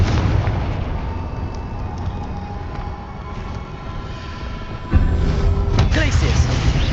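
Confringo, a fiery explosion spell cast in Hogwarts Legacy combat, fills a dense, loud wash of blasts and rumble. A sharper, heavier boom lands near the end.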